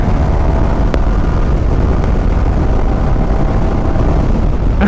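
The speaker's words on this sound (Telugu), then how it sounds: "ఫస్ట్ ఇంజిన్ పెర్ఫార్మెన్స్ చెక్ చేద్దాము." A 2024 Yamaha R15M motorcycle's engine drones loud and steady under hard acceleration, a dense continuous roar mixed with road and wind rush, with no talk.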